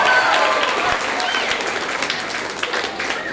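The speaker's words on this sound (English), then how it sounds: "Give a big clap to all achievers of the school." Students at a school day event clap for the school's achievers, a sustained burst of many hands applauding that fills the hall and slowly thins out over a few seconds.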